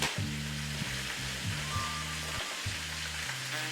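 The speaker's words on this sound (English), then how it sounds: "So we want to make sure to get that nice sear on all sides." Beef searing in a hot pan for birria tacos, a steady loud sizzle and crackle of frying that runs throughout with no talking.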